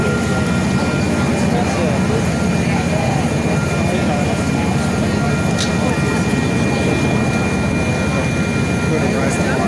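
A drone flies overhead at a steam locomotive event in Rochelle, Illinois, a steady buzzing whine over a loud, constant outdoor rumble, with people talking nearby.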